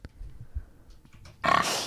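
A pig oink sound effect plays as a short, loud burst of grunting squeals near the end, after a stretch of low, quiet background rumble.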